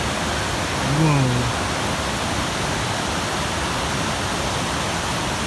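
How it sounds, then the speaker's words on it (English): Steady, full rushing of water where a creek flows into a river at a hot springs site, loud and continuous throughout, with a brief voice exclamation early on. "Standing right here at the confluence of the creek and the river."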